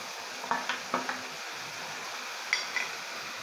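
Marinated hilsa fish pieces go into a pan of hot oil with five-spice seeds and sizzle quietly and steadily. A few light clinks and taps of utensils come through near the start and again toward the end.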